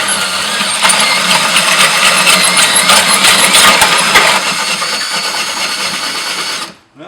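Power drill with a hole saw cutting through the plastic wall of an aquarium sump, a loud close continuous grinding whine with rattling, steady for several seconds before spinning down and stopping.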